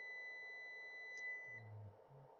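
A multimeter beeper sounds a short, faint steady tone that stops abruptly, followed by quiet handling noises during a resistance test on a bulb.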